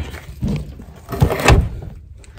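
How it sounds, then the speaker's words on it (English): A door being pulled shut downstairs in a homestead house, heard as a scrape followed by a couple of close, solid thuds, then quiet. "I gotta close this door."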